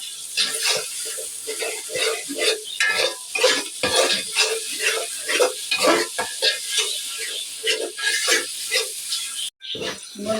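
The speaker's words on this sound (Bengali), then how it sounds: "আমি আদা রসুনটা ভালো করে কষিয়ে নিয়েছি" Ginger and garlic paste fries with onions and onion greens in a pan, with rhythmic scraping stirs and a light sizzle repeating steadily up close.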